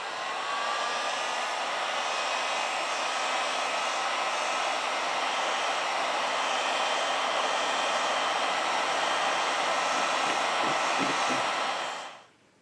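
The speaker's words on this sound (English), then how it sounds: "With the help of a heat gun, we apply 90 Celsius degrees during 4 minutes." A heat gun blows steadily and loudly for about twelve seconds while heating an Apple Watch Series 5 screen, a constant airy roar with no speech, fading out at the end.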